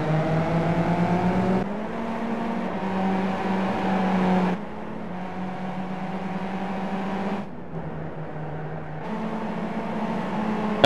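A Skip Barber race car engine drones loud and steady on the Circuit of the Americas in an iRacing replay, its pitch rising and falling as the car shifts gears along the back straight.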